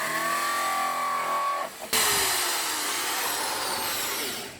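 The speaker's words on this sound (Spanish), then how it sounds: "vamos a hacer los agujeros primero hacia adelante para hacer el hoyo de la broca" A power drill bores a hole in PVC pipe with a steady whining whir. The tone drops briefly partway through, then picks up again with a grinding, broadband sound that fades near the end.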